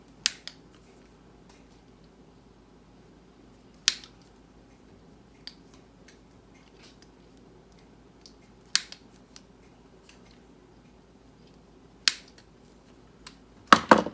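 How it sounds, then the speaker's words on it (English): Wire cutters or scissors trim a 16-gauge mini shotgun shell, giving a handful of sharp, isolated snips and clicks spaced several seconds apart, close and crisp against an otherwise quiet bench. "And wire cutters, scissors, whatever you got. Trim off about 1/4 of it."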